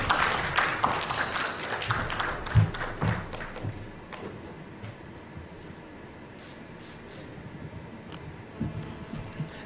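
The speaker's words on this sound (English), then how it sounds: "a round of applause for DG STPI once." An audience at an investors meet claps in a scattered round of applause that fades after a few seconds into a quiet hall murmur with occasional thumps.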